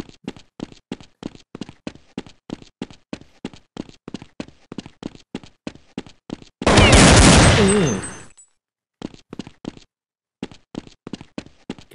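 Rapid bursts of Counter-Strike 1.6 gunfire crackle in steady rhythm, interrupted by one loud, dense blast lasting over a second before the shooting resumes.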